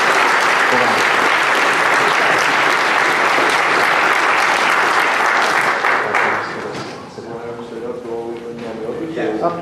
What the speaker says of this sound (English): let's have just one more round of applause for Middlesbrough South TSA